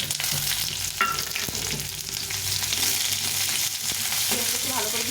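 Chopped onions frying in a pan, with a steady close sizzle and the occasional clink of stirring running throughout.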